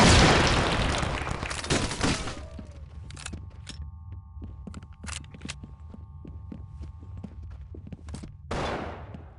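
Friendly fire in the SWAT 4 tactical shooter game: a loud burst of gunfire at the start, then scattered sharp shots over a low steady hum.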